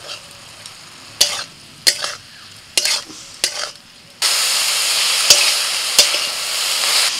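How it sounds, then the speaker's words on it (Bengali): Mustard greens are stirred in a pan, giving a few sharp scrapes and clacks of a spatula before a loud, steady sizzle of frying takes over, broken by more stirring strokes. "ভালো করে শাকটাকে নাড়াচাড়া করে নিতে হবে।"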